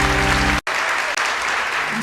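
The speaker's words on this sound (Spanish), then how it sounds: "Dale un fuerte aplauso a nuestro Dios." A church congregation claps loudly in a steady, dense wash of applause, cut by a brief near-silent gap before continuing at full strength.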